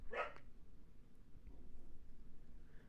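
A dog gives a single short bark near the start, fairly faint and distant, followed by a quiet low background hum with no further barking.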